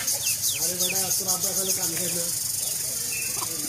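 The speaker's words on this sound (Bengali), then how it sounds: "এই যে দেখেন বাচ্চা মুরগি মাছ লিয়ে লাফায়" Young chickens cheep and squawk excitedly in a busy cluster, squabbling over small fish, with clucking and chatter over steady outdoor background noise.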